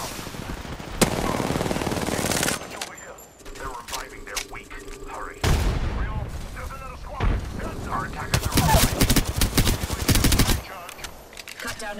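Rapid automatic gunfire and single shots from Apex Legends combat, loud bursts and sustained volleys across the clip with brief pauses between, overlapped by in-game voice callouts.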